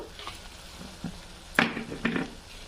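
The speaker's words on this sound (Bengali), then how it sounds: "এক চামচ আদা বাটা, এক চামচ নারকেল বাটা দিয়ে ভালোভাবে কষিয়ে নেব।" Ginger and coconut paste being sautéed in a pan, heard as a low sizzle with a few sharp scrapes and clinks of a spoon against the metal, fairly close and without talk.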